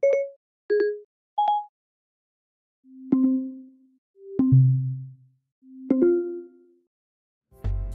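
New Siri activation chime on macOS Ventura 13 beta: a few short rising tonal blips followed by several softer, fuller swelling tones, clean and close with gaps of silence between them.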